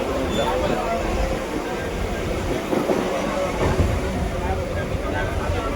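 A Mumbai local commuter train heading to Kurla runs with a loud, continuous rumble and rattle throughout, with faint voices mixed in.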